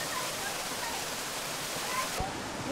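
Waterfall used for Shinto purification training, a dense continuous rushing roar of falling water, steady and fairly close, with no voices.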